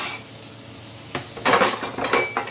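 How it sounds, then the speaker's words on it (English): Diced tomatoes tumble into a frying pan with a burst of clattering and light sizzling, followed by a few metal clinks, close up with no talking. "got my tomatoes all diced up and chopped up and add those to the pan as well"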